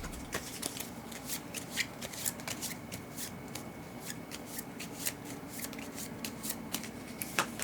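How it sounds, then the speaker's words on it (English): Close, crisp shuffling of a deck of playing cards during a solo tabletop game of Expeditions, with repeated riffles and rapid flicking bursts at an uneven rhythm, quiet and alone. "And then AI has to shuffle its deck again."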